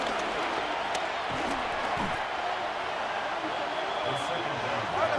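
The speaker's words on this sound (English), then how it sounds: "This crowd turning up the decibel level." Stadium crowd roaring during a Jets versus Dolphins game in Madden NFL 26, a steady, distant wash of cheering that sits under play-by-play commentary.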